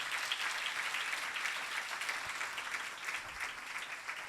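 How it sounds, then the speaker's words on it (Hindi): A church congregation at a Sunday service applauds, a steady, fairly faint patter of many hands clapping that holds evenly throughout without voices over it. "जोरदार ताली खुदावंद यीशु मसीह के लिए।"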